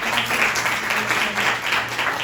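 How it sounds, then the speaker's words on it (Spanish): An audience at an art-history discussion gives a short, steady burst of applause, even and continuous throughout with a faint low hum beneath. "Así que felicidades y un fuerte aplauso"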